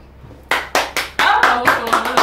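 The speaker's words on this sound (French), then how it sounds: "Enfin, on applaudit quand je me présente, enfin." A small group of people claps in a radio studio, a handful of sharp, uneven claps at first that quickly thicken into a short, close burst of applause.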